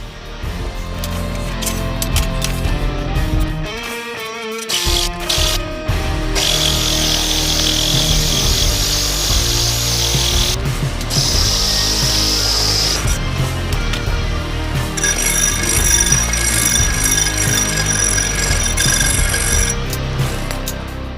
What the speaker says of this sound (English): So I'm going to drill these out